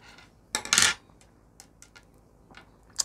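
Blunt scissors snip the tag end of a carp rig line, one close, crisp cut followed by a few small faint clicks and handling sounds in a quiet room.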